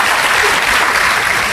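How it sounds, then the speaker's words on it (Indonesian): A church congregation applauds for Sunday school teachers during a sermon, a brief, steady wash of many hands clapping close and loud. "Boleh nggak kasih tepuk tangan buat guru-guru sekolah minggu?"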